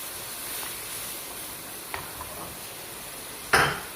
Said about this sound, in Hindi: सारे मसालों को डाल देंगे और थोड़ा सा भुनेंगे।